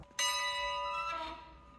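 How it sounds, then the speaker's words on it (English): A single church bell at Roser Church on Anna Maria Island is struck once, a clear bright clang close by that rings out and slowly decays. "Small hands ringing the bell at Roser Church"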